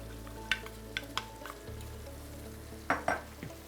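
Tofu, carrots and celery frying over medium heat while a utensil stirs them in the pan, giving a soft steady sizzle broken by a few light scrapes and clinks, close up with no one talking.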